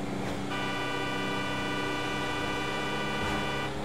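A car horn blares in one long sustained honk in the GTA Online video game, loud over a steady background of traffic noise.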